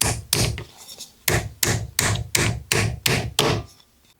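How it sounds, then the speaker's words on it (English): A hammer taps a tight spacer into a new motorcycle chain slider on a Honda Transalp / XRV 650-750, with about ten sharp, evenly spaced knocks, close and clear with no talk. "It is a little bit tight, so I'm gonna do it with a hammer."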